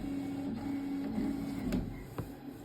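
A home embroidery machine runs with a sweater clamped in its hoop, giving a quiet, steady mechanical hum with a few faint clicks and ticks at close range.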